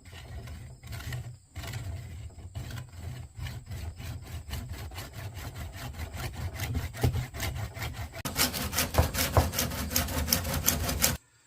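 A handsaw cuts through PVC pipe for a survival bow, a steady rhythmic rasp of back-and-forth strokes, close and fairly quiet, growing faster and brighter toward the end before stopping abruptly.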